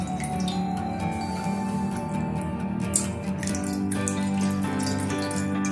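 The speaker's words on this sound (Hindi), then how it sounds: "तो मैं उसमें 2 ग्लास पानी ऐड कर देती हूँ।" Water poured into a kadai fitted with a steaming stand while preparing steamed rice cakes from leftover rice, a steady running, splashing flow heard close and continuous with no talk.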